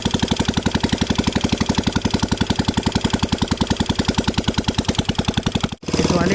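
An old Royal Enfield Bullet Standard 350 cast-iron engine idles loud and rough close by with no silencer, rapid evenly spaced popping beats, unmuffled and continuous, briefly dipping near the end.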